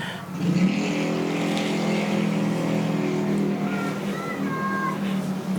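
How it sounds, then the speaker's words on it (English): A loud motorbike roars past nearby, its pitch rising and then sliding down as it moves away. "that was a motorbike"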